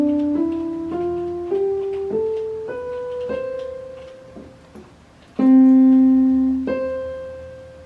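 A piano plays an octave from C up to C one note at a time in an even rising line, then sounds the low and high C, each note ringing clearly and alone.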